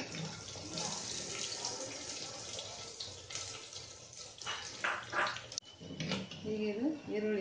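Mustard seeds and cumin hit hot oil in a pan, giving a steady hissing sizzle with scattered pops, while a person talks over the cooking.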